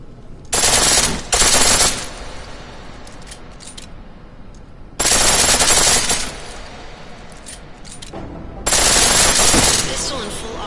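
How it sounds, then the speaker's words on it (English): In the Deus Ex: Mankind Divided video game, a pistol fires on full auto in three loud, sustained rapid-fire bursts, each lasting about a second or more, separated by quieter gaps with faint game background. "Pistol in full auto will take down targets fast, but it'll burn through your ammo."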